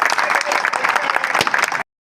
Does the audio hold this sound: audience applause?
yes